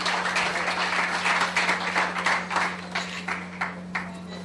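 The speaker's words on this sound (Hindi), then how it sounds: "तालियां हो जाए जोरदार" Sustained applause from a meeting audience, a dense patter of many hands clapping steadily at moderate loudness, with a constant electrical hum running underneath throughout.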